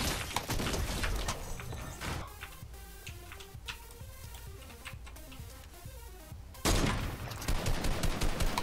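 Bursts of gunfire in a Fortnite fight, with loud dense volleys at the start and again near the end and quieter, sparse ticking shots in between.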